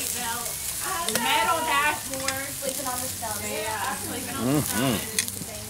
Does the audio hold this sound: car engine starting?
no